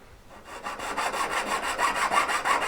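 A fine jeweler's saw rasps back and forth through metal jump rings in quick, even strokes, a close scratchy cutting sound steadily building in loudness with no talking.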